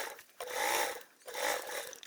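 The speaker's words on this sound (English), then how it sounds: "we'll get the rest done over at the sewing machine" Sewing machine basting a lining with a narrow seam allowance, two close bursts of steady motor whir and needle clatter separated by a brief pause.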